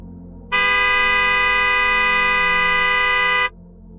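A single loud, steady vehicle horn blares for about three seconds, close by, then cuts off abruptly.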